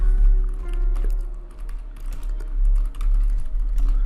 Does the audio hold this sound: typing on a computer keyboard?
yes